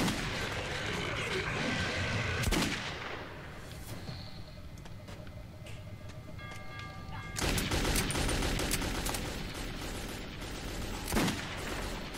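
Gunfire in the video game Metro 2033, dense bursts of shots and booms that fill the opening seconds, drop to a quieter stretch, then return loud and sustained near the end.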